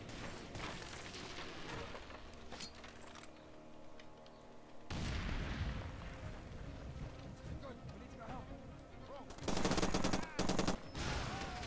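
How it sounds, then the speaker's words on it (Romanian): Bursts of gunfire in the video game Far Cry 2, with a loud, dense volley near the end over steady in-game ambience, while someone talks throughout. "Unde mai trag ăștia?"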